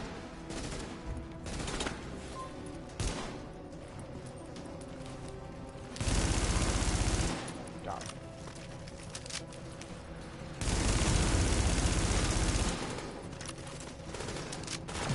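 Sustained automatic gunfire in The Division video game, with bursts of rapid shots and two louder, denser volleys standing out over continuous combat noise.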